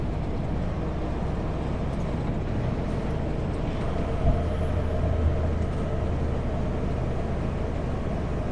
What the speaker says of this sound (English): Logging truck wanted to be ahead of me.